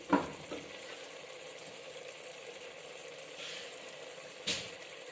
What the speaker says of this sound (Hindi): अब हम इसमें कोफ्ते ऐड कर देंगे।